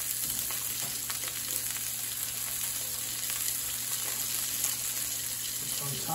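Fish skin sizzles steadily in a cast iron pan, a dense, even frying hiss that holds for the whole stretch with slight flickers and no one talking.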